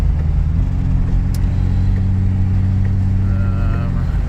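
A 2000 turbocharged Corvette accelerates hard with its tires spinning, giving a loud, steady low engine rumble and drone that holds through the whole stretch, with a faint high squeal rising near the end.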